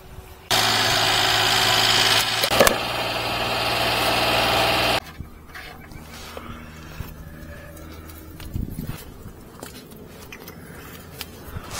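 A micro van engine with a blow-through carburetor runs loud and steady for about four seconds, then cuts off abruptly, leaving quiet shop noises and faint clunks.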